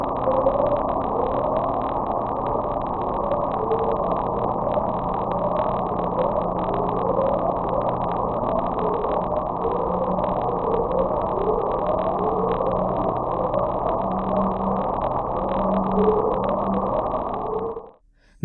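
Underwater recording of the Upsweep, an unexplained ocean sound: a steady low drone carrying a long series of repeated rising tones, heard alone and cutting off abruptly at the end.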